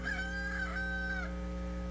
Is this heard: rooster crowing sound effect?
yes